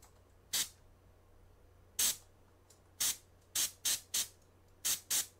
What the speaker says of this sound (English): I'm doing really controlled, really small sprays right at the back of his head where his ear is.